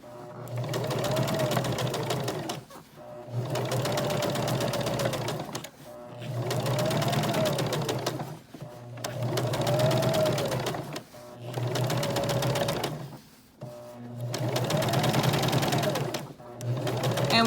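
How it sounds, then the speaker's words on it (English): A sewing machine stitching over a gathering thread, a steady close whirring hum in six even runs of about two seconds each, with brief quiet pauses between them. "I'm not sewing directly on the thread."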